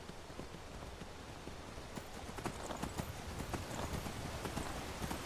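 Horse hooves gallop in Skyrim, a steady rapid clip-clop that grows slightly louder and denser over a constant noisy ambient bed, with no talk.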